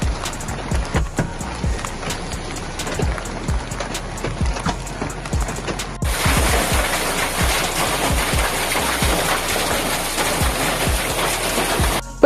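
Severe hailstorm with wind in the Jizan region of Saudi Arabia: dense hail clatters and pelts steadily with a broad rushing roar, growing heavier and louder about halfway through, with no voices.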